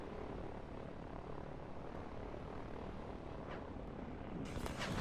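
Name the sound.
helicopters attacking in the video game Line War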